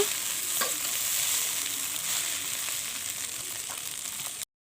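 Pasta with Maggi masala is stirred in a hot pan, a constant close sizzle with occasional spoon scrapes before it cuts off abruptly, no voices.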